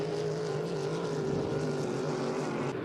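H350 hydroplane racing boats run at full throttle in a race, giving a steady, droning engine roar with a strong low hum and no breaks over a few seconds.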